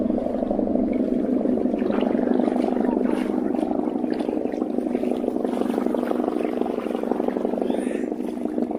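A flyboard's water-jet engine running on open water: a loud, steady, droning hum that holds the same pitch and level throughout, with no break or change.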